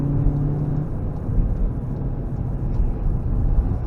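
A car at full throttle on an onboard lap of the Nürburgring Nordschleife during a touristenfahrten session, a steady loud engine roar with road rumble running unbroken throughout.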